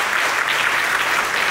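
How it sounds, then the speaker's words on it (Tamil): Audience applause for students' parents at a Tamil gathering celebrating students who became doctors abroad, a steady, dense burst of many hands clapping at close range with no pauses. "உங்கள் பேரண்ட்ஸ்க்குலாம் ஒரு நல்ல கைத்தட்டல்"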